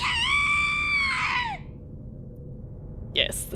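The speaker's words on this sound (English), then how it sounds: "Yes, the screams. I love the screams in this." A long, shrill female scream from the horror video game Corpse Party: BloodCovered rings loud for about a second and a half, falls away, then a short second cry follows.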